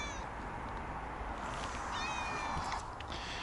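A friendly British cat meows several times, close and fairly clear, over a steady outdoor background hiss with no speech.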